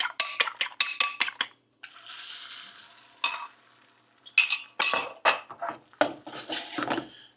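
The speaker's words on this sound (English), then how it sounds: "So the pan is nice and hot. All we're going to do is drop it in." Eggs dropped into a hot pan, with clinking of pans and utensils followed by sizzling frying bursts and stirring, close and moderately loud with no talk.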